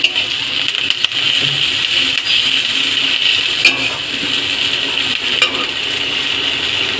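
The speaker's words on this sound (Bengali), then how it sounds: "এইরকম লাল লাল করে কুঁদরি ভেজে নিতে হবে।" Ivy gourd (kundri) frying in a pan, a loud, steady crackling sizzle that runs throughout, with occasional scrapes and clinks of a utensil stirring; no one speaks.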